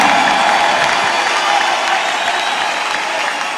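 A church congregation applauds and cheers to acclaim Jesus, a dense, steady wash of clapping from a large crowd that fills the whole stretch at a constant level.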